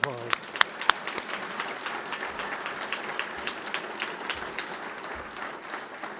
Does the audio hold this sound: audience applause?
yes